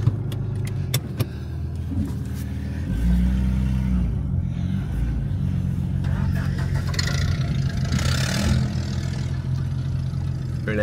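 Engine of a scrap-yard Ford wagon running while driving, a steady low rumble with faint rattles and clicks, and people talking over it.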